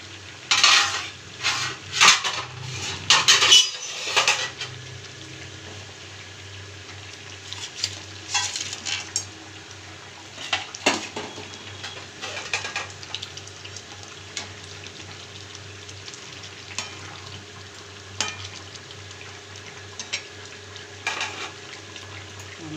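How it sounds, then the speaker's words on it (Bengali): Fried sating fish going into a simmering mustard and eggplant curry, with clattering of pots and utensils and splashy stirring at the start, then quieter scattered clinks over a low bubbling background. "এর মধ্যে এবার আমি শাপিং মাছগুলো ভেজে রেখেছিলাম সেগুলো দিয়ে দেবো।"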